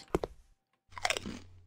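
A crunchy mushroom is eaten in a horror video game: two quick, close crisp bites, a brief pause, then a longer burst of wet crunching and chewing.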